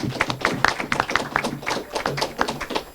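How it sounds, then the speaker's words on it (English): An audience at a police New Year celebration breaks into applause, with dense, irregular hand claps of varying loudness forming a continuous patter close to the listener. "You deserve another round of applause"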